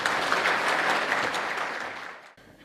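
Audience at a Başkent University Faculty of Communication ceremony applauds to welcome the dean, dense clapping that tapers off and stops abruptly near the end.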